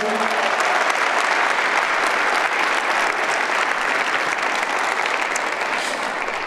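A church congregation at Prestonwood en español gives a strong round of applause to welcome guest Dr. César Vidal. The clapping is dense, steady and loud, filling the room without pause.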